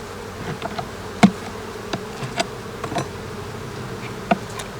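Honey bees buzz in a steady close drone while a hive is opened and its frames inspected during a spring split, with occasional light knocks and clicks from handling the frames.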